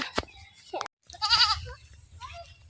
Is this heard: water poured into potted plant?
no